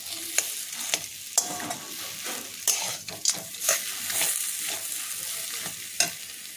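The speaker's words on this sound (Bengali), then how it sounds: "এই ভাজা বাদামগুলো দিয়ে আর একটুক্ষণ আলুটাকে আর একটু ভাজা ভাজা করতে হবে।" Potato filling with fried peanuts frying in a pan for crispy patol chop, with steady sizzling and repeated sharp scrapes and clanks of a spatula stirring, close and fairly quiet, no talking.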